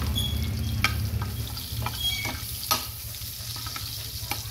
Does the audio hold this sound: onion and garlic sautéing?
yes